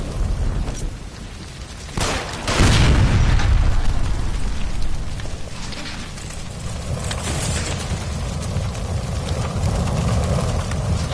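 A gas line blows up in the video game L.A. Noire, a heavy boom followed by a long roaring rumble of fire and debris that stays loud to the end.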